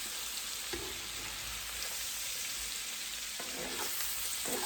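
Fresh peeled potatoes and sausage fry in a pan, giving a constant loud, close sizzling hiss with a couple of faint knocks and shifts partway through.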